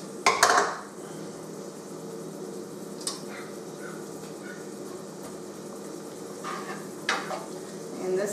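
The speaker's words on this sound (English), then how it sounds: "this is going to probably take about 10 minutes to saute that good" Green and red peppers with sweet red onions sautéing in a pan, a steady soft sizzle throughout with a few clanks and scrapes of a utensil against the cookware.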